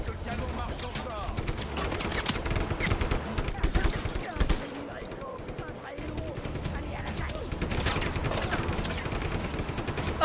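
Cannon fire from an armored vehicle in the video game Just Cause 3, rapid dense bursts of booming shots and explosions filling the clip, with a short lull midway.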